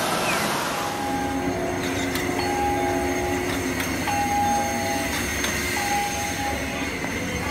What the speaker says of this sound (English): there goes the train that I wanted to take